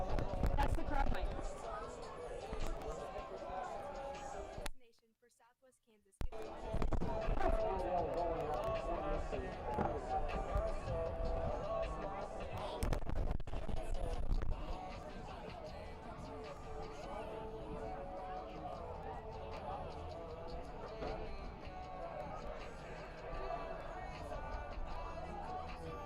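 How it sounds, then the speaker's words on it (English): High school football game crowd between Scott City and Wray picked up on a crowd mic, a steady distant murmur of chatter and hubbub with a brief dropout, fairly faint throughout. "I just hear crowd right now"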